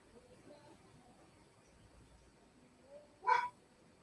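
A pet dog at home gives a single short bark near the end, fairly close and loud against a quiet room with faint background noise.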